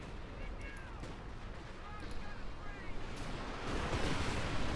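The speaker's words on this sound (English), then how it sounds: "The Luftwaffe and the artillery strikes." Artillery strikes and Luftwaffe air attacks in Company of Heroes 2 rumble as dense, overlapping booms and blasts, building louder toward the end beneath a steady roar of battle.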